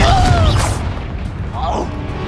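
A Confringo fire spell explodes in the Hogwarts Legacy video game, giving a short, loud booming blast with a rumbling tail, and a voice sounds over the start.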